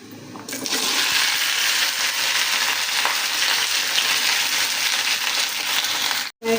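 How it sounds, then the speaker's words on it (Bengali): Okra frying in hot oil, a loud, steady, close sizzle that hisses without a break for several seconds, alone, cutting briefly near the end. "এখানে আমি ভেন্ডি ভাজাটা করে ফেলি,"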